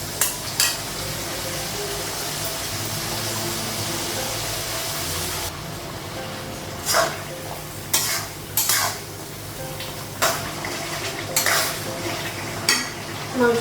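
Ginger paste, garlic paste, turmeric and cumin mixed with water frying with browned onions in a pan for goat curry, a steady sizzle broken by sharp clinks and scrapes of a spoon stirring against the metal.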